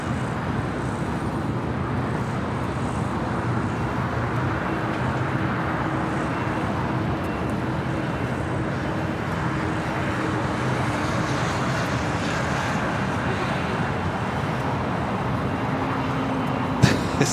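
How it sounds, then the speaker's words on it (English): A Finnair airliner arriving at LAX from Helsinki, heard as a broad, steady jet roar from some distance, mixed with airport and road traffic hum and holding level throughout. "Flight 1 coming in from Helsinki"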